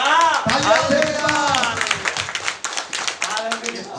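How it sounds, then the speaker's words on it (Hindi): Congregation clapping at a church service, rhythmic group claps under a loud chanting or speaking voice that carries through most of the clip. "जोर से बोलिए तालियां"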